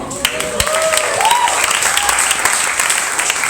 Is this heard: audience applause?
yes